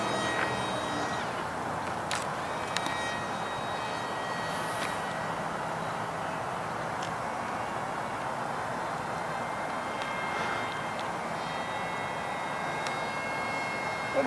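Aeroscout light aircraft flying slowly into a headwind on a windy morning, a steady broadband engine and wind roar holding at constant level throughout, with faint tonal whine on top.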